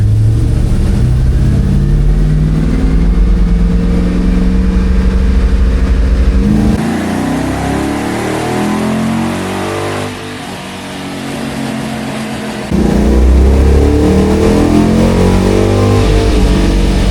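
A car engine revs hard in second gear on a dyno, loud and close, climbing steadily, dipping briefly mid-pull, then surging again.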